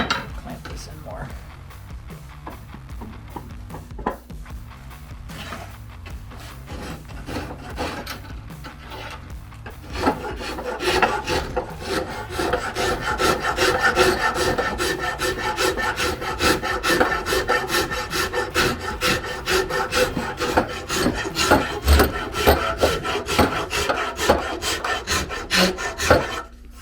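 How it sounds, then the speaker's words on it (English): A farrier's rasp filing a wooden axe handle, first slow scattered strokes, then a long run of steady rhythmic rasping strokes, close and clear with no talk. "Switch to this farrier's rasp and just see if we can clamp this in more."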